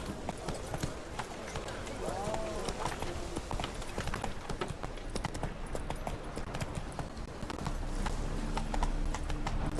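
Horse galloping in The Witcher 3: Wild Hunt video game, a fast, steady drumming of hoofbeats close up, continuing under ambient game sound and occasional voices.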